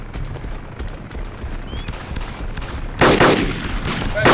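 Gunfire at a helicopter in the video game DayZ, with a rapid crackle of shots over a rotor-like rumble that swells into a louder, dense burst near the end.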